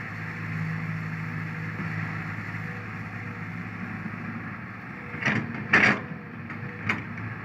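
A SANY 215C excavator with a Mitsubishi engine digs a pond. Its diesel engine hums steadily at low to mid pitch, and a few short clanks and scrapes from the bucket come near the end.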